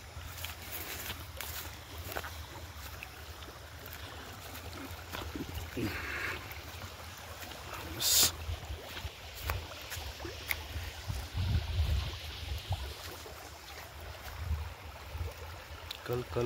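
A river stream flows in a steady low rushing wash outdoors, with a brief burst of hiss and some low thumps partway through.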